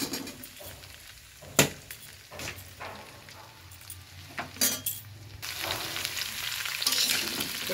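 Cauliflower frying in a pan for a vegetarian potato-cauliflower-soybean curry, a steady soft sizzle that thickens toward the end, broken by a few sharp spoon clinks and stirring scrapes, close by with no voices.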